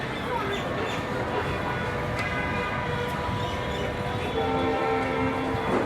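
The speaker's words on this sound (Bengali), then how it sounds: "ট্রেনটা চলে যাচ্ছে।" A commuter train running between Joydebpur and Dhaka pulls out of the station, its steady rumble and rolling wagon noise filling the scene continuously at close range, with faint tonal whines over the din.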